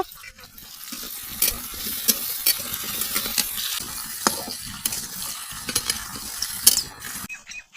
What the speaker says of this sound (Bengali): এখন আমি আলুগুলা একটু ভেজে নেব।